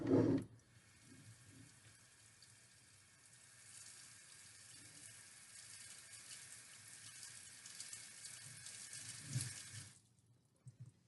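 Water runs steadily from a tap into a pot for several seconds, a soft continuous splashing hiss that starts and stops with faint clunks at each end.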